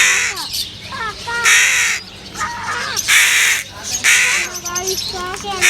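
Crows kept in a pet shop caw in loud, close bursts, three or four harsh calls separated by short gaps, with a person talking between them.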